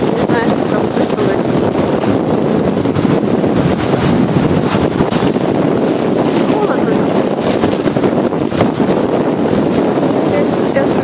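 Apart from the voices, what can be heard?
wind blowing at the ocean shore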